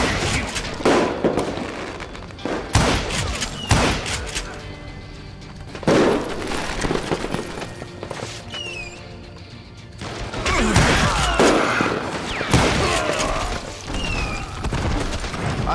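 Bursts of gunfire ring out repeatedly in Call of Juarez: Gunslinger, sharp cracking shots in irregular clusters with echoing crashes and quieter gaps between volleys.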